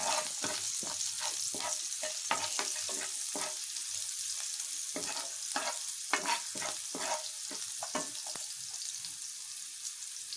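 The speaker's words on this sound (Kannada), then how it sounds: "ಒಂದು ಅರ್ಧ ಈರುಳ್ಳಿ ಹಾಕ್ತಾಯಿದ್ದೀನಿ. ಈರುಳ್ಳಿ ಸ್ವಲ್ಪ ಫ್ರೈ ಆಗಲಿ." Half an onion frying in hot oil in a pan for egg masala sambar, a steady loud sizzle running throughout with crackling pops and stirring scrapes, no talking.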